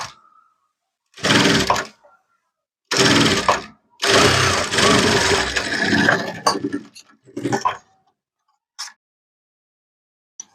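Sewing machine stitching a Patiala salwar pant, running in several loud, close bursts of about a second each with short pauses between, ending in a few brief taps and no speech.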